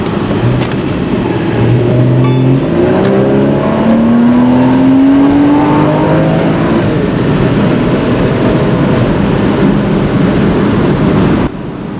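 Porsche Boxster flat-six engine accelerating, a loud steady drone heard from on board with a rising engine note sweeping upward over several seconds, continuous throughout with no talk.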